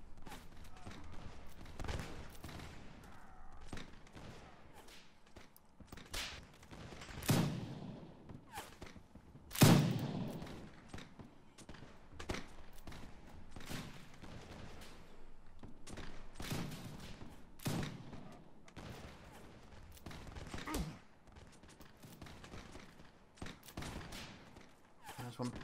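Musket volleys in Mount&Blade: L'aigle, scattered gunshots and bursts of fire that rise and fall, with one louder crack near the middle, under frequent talking voices.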